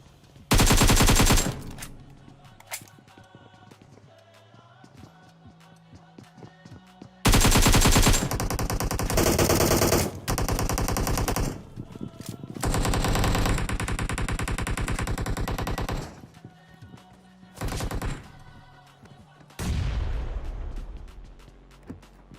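Rapid automatic gunfire bursts from the battle royale game BGMI, loud and close, in several long sustained volleys separated by short pauses, with scattered single shots and a final burst fading out.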